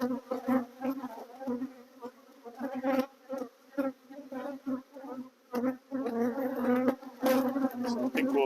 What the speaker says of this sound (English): Having aggressive bees is no fun